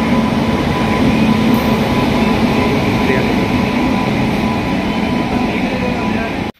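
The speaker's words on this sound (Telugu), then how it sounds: "అది ఇంజిన్ అయితే వచ్చేస్తుంది" A railway engine arriving at Chittoor railway station: a loud, close, continuous rumble and droning hum that holds steady throughout, then cuts off sharply at the end.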